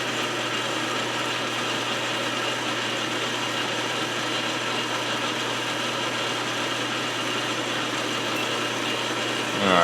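A cutter drill bit grinding through material, a continuous loud mechanical whir with a steady buzzing hum, unbroken and close, rising slightly at the very end.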